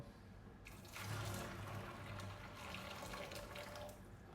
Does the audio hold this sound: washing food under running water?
yes